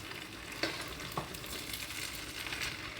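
Vegetables and rice are stirred together in a pan, giving a low steady sizzle with a couple of sharp utensil scrapes, near and quiet, with no talking.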